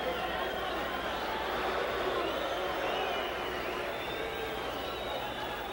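Boxing arena crowd at a heavyweight bout, Muhammad Ali versus Floyd Patterson, a steady dense roar of many voices shouting and cheering, loud and continuous with no break throughout.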